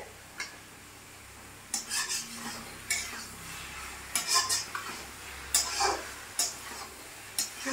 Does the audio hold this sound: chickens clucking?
no